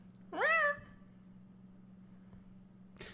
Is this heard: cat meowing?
yes